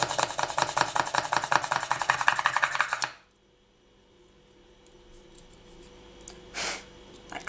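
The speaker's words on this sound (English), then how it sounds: "And then drill another one at the top." A polymer clay mosaic earring piece is hand-drilled at the top, giving about three seconds of dense, rhythmic scratchy grinding up close. It stops abruptly and a quiet room follows, with one soft rustle.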